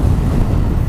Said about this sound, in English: Gust of wind just came through.